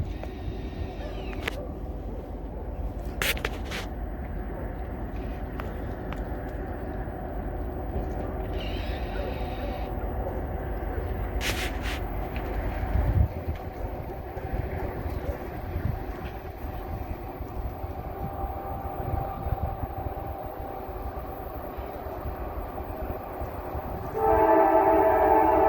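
A CSX freight train led by a rebuilt CM44AH locomotive with an SD70MACe trailing rumbles past at moderate distance, steady wheel and engine roar with sharp horn-like bursts and a brighter tone near the end.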